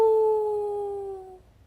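A human voice imitates a coyote howl with a single loud, sustained tone that slowly glides downward in pitch and fades out after about a second and a half.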